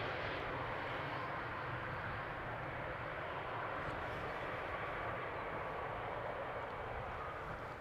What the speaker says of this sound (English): First up is a Boeing 737-800 from KLM inbound Paris Charles de Gaulle